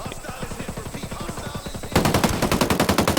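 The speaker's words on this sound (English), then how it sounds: "He's popping off little shots with his rifle." Rifle gunfire in the video game Ghost Recon Breakpoint, a rapid series of sharp shots in steady bursts, moderate at first, then louder and denser in the second half, heard alone without talk.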